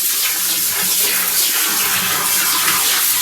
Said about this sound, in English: So I'm going to take this hose and spray all this